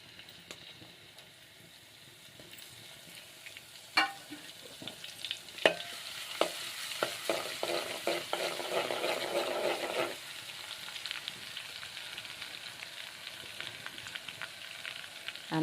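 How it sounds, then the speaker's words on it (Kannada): Garlic dropped into hot oil, a soft background hush that bursts into a close, crackling sizzle with sharp pops and stirring clatter, peaking midway then settling into a quieter, steady fry. "ಇದಕ್ಕೆ ಇವಾಗ ಎಣ್ಣೆ ಗರಮ್ ಆಗೈತೆ ರೀ. ಬೆಳ್ಳುಳ್ಳಿ ಹಾಕ್ತೀನಿ ರೀ ಇದಕ್ಕೆ."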